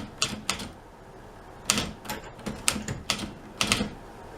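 Keys strike on a vintage typewriter, close and crisp, in short irregular bursts of single clacks separated by brief pauses, with no talking.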